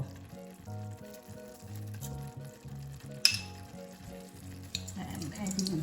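Onion and chilies fry in a pan on low heat, a soft steady sizzle with occasional stirring and one sharp utensil clink near the middle, all fairly quiet and close.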